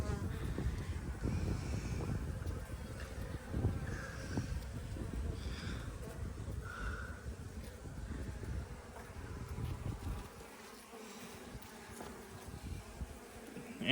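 Bees buzzing steadily around a hive on a farm, a close, continuous insect drone layered with wind and light rustling throughout.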